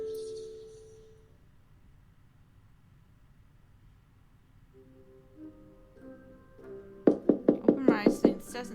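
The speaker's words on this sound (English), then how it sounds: "The incessant sound of fists banging on my door" Fists bang on a door in a rapid run of about six heavy, close thumps. The pounding breaks out suddenly near the end, after a long stretch of quiet, droning tones.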